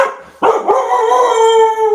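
A dog reacts to a doorbell with a loud, sustained howl that breaks into barks, very close and dominant, starting after a brief quiet moment.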